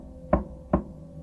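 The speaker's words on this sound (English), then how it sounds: "The knock came again, a little louder this time." Two firm knocks on a wooden door, spaced under half a second apart, close and clear against a quiet background, as a sound effect in a spoken horror story.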